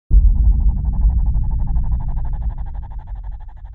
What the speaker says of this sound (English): This one for me, some kind of like alien critter in the sound.